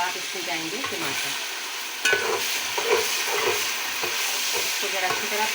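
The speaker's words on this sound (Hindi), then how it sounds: "इसको ज़रा अच्छी तरह भून लें ताकि लहसुन अदरक का कच्चापन ख़त्म हो जाए।" Tomatoes frying with golden onion, ginger and garlic in a pan for vegetable tahiri, a steady close sizzle broken by scraping stirring strokes throughout, with no voices.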